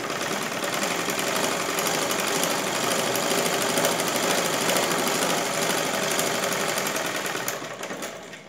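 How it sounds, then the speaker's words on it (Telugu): A sewing machine stitches a folded blouse cloth in a steady, fast, continuous whirring rhythm, close and loud, slowing and fading near the end. "ఇటు సైడ్కు మడిచి ఒక కుట్టు వేద్దాము."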